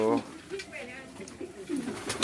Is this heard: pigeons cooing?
yes